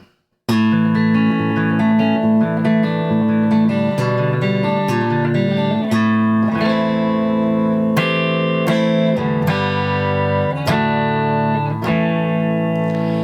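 An early-2000s MIK electric guitar on its middle pickup is fingerpicked with a clean, warm tone, notes and chords ringing out steadily with light effects and sustain.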